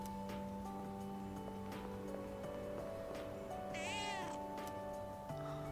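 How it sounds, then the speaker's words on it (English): A cat in Persona 3 Reload gives a short, high meow partway through, mid-loud over sustained game music and a low ambient drone. "Is that the cat I fed?"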